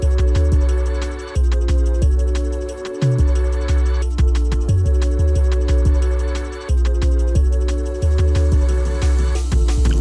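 A full jungle drum and bass track made in FL Studio, with fast choppy breakbeat drums over booming sub-bass and sustained synth layers, loud and steady throughout without any talking.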